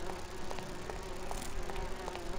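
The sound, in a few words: buzzing giant flies or bees in video game Grim Fandango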